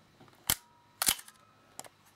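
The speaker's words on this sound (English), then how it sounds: "move the shutter advance lever all the way around and release, and then you can fire the shutter" A Nikon F 35mm film camera gives two sharp mechanical clacks of the film advance and shutter release about half a second apart, then a fainter click, close and isolated in a quiet room.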